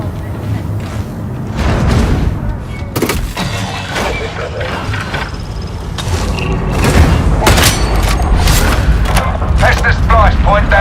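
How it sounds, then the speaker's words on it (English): Heavy booms and thuds of grenade explosions go off repeatedly in a video game amid gunfire and mechanical clatter, loud and dense, with speech heard throughout. "Throwing grenades!"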